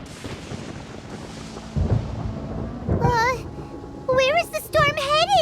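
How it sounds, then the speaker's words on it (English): Deep rumbling thunder rolls through a Genshin Impact scene, a low boom swelling under animated character voices that speak over it. "Paimon hears thunder!"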